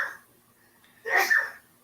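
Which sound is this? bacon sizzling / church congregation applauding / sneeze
sneeze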